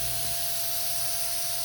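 An automotive paint spray gun hisses steadily while coating a truck at home, producing a continuous, even broadband spray close to the listener with no speech.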